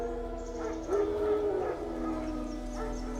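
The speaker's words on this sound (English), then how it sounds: "No, wild dogs." Wild dogs howl in the video game The Witcher 3, a moderately loud drawn-out howl rising over a steady low game ambience, followed by fainter yips.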